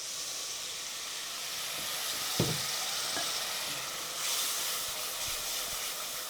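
Tomato paste, a basic tomato purée, fries in oil for a home-style curry, giving a steady moderate sizzle and hiss with a couple of brief stirring clinks and scrapes partway through.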